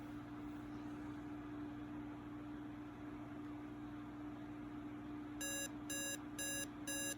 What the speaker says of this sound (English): the alarm is now sounding